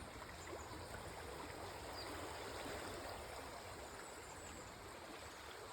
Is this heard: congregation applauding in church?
no